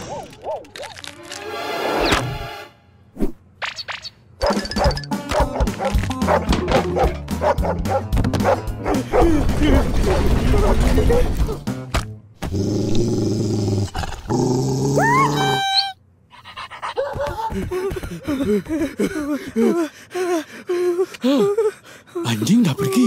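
A dog in a cartoon barks loudly and repeatedly, mixed with growls, yips and whimpers, alongside music and animated voices, with a brief quiet gap before more barking and talk.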